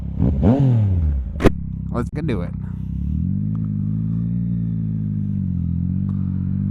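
A 2023 Yamaha XSR900 motorcycle engine gives a quick rising and falling rev up close, then settles into a steady, even idle rumble, with someone talking over the start.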